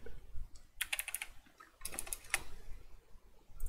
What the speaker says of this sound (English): I'm gonna ask you if you can hear my keyboard.